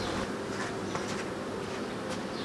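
Honey bees buzzing steadily in an open hive while frames are inspected, a close, continuous hum that fills the whole moment.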